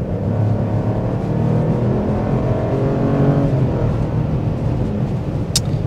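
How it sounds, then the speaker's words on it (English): 2024 Buick Encore GX Avenir with a 1.2L turbo three-cylinder accelerating from a roll, heard from inside as a steady loud engine drone that rises in pitch, with no voices. "There's our rolling acceleration."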